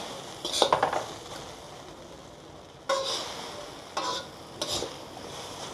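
Egg noodles being stirred in a pan, with a few clinks and scrapes of a utensil against metal over a faint steady sizzle, sparse bursts separated by quieter stretches.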